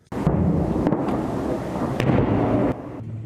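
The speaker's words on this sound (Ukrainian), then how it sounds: "Звуками вибухів нікого вже не здивувати." Deep, rumbling wartime explosions near Soledar, Ukraine roll continuously, loud and reverberant like distant booms, with a sharp crack partway through and no voices.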